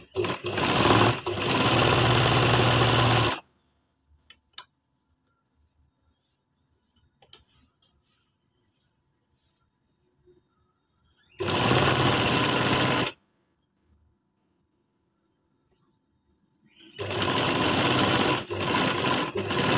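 Sewing machine stitching tape onto a criss-cross inner hijab cap, three loud rapid running bursts of a few seconds each separated by long quiet gaps.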